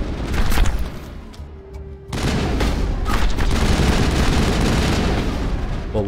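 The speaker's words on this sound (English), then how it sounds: "Why is my weapon firing so slow?" Rapid weapon fire from the Mass Effect video game, a dense continuous burst that pauses briefly and then resumes loud and sustained, with game effects mixed in.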